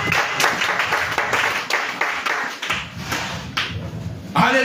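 A church congregation claps and applauds the Lord during a sermon, with dense, continuous hand clapping at a fairly close, steady level throughout, and a louder burst near the end.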